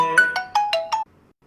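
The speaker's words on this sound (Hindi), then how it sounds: "बीच में फोन आ जा रहा है" A phone ringtone plays a quick series of five or six bright chiming notes in a falling pattern, then stops, leaving near silence.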